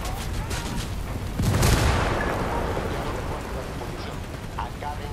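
A frag grenade goes off in the Ghost Recon Wildlands cartel firefight, a single loud, rumbling boom over constant rain-like battle noise, its low roar swelling and then slowly fading.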